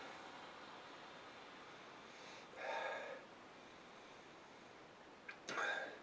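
Two short, soft nasal sniffs of a glass of Pyramid Hefeweizen wheat beer, spaced a few seconds apart, close to the microphone, over a quiet background hiss.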